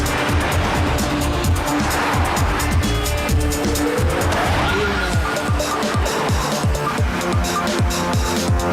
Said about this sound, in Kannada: ಇವಾಗ ಚಾ ಅಂಗಡಿ ಕಡೆಯಿಂದ ಗಾಡಿ ಓಡಿಸಿ.